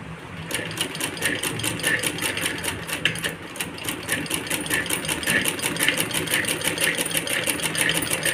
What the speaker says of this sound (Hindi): पेपर रख के इस तरीके से आप सिलाई करिए इस पर